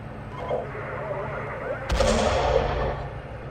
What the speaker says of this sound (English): So yeah, you've got dynamic mortars.